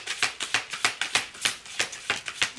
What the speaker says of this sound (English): I don't know why I've been shuffling all the cards 4 times instead of 3.